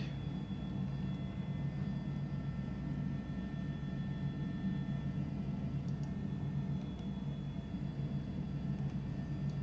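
Steady droning rotor and turbine hum of an H145 helicopter cruising at about 800 feet in Microsoft Flight Simulator 2020 near Sydney, Australia, a continuous even rumble with a faint high whine, no talk.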